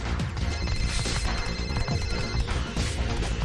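A phone rings steadily in the Teenage Mutant Ninja Turtles: Mutants Unleashed video game, a repeating trill held over game music and background sound for several seconds with no talk.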